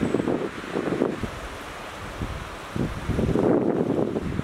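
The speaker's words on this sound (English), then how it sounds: "The situation is it's really, really windy." Strong wind in the woods on a duck hunting trip buffets the microphone in heavy, uneven gusts, a loud roar that swells and eases with no talking.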